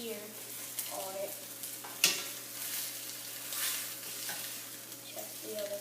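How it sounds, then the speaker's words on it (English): Chops searing in a hot pan give a soft, steady sizzle close by, with occasional stirring scrapes and one sharp clatter partway through. "you can already start to see them sizzling and hear them"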